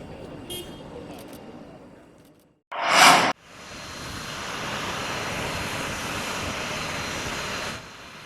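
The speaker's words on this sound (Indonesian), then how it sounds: "Pesawat Boeing 737 milik TNI Angkatan Udara tiba di Bandara Sam Sepinggan, Balikpapan, Sabtu siang" Indonesian Air Force Boeing 737 arriving at Sam Sepinggan Airport in Balikpapan, a steady broadband jet roar rising and holding for several seconds after a brief loud burst, then cutting off near the end.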